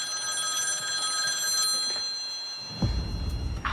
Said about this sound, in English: when your phone rings